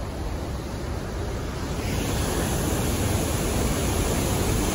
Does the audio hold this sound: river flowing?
yes